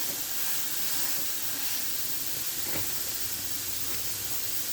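Ground beef sears in a hot skillet, left unbroken to brown, giving a steady, dense hiss that holds evenly throughout with no talk over it.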